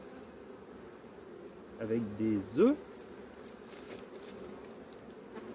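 Honeybees buzz around an opened beehive as frames of brood and honey stores are handled, a steady close hum with a few louder passes of single bees, while a person says a few words in French.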